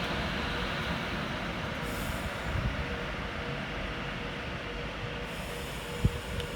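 A Virgin Trains passenger service bound for Milton Keynes rumbles steadily at Crewe station on the West Coast Main Line, a continuous broadband roar with a brief sharp clank near the end and no voices.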